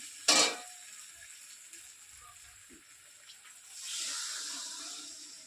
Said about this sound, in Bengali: এখন জল দিয়ে দিই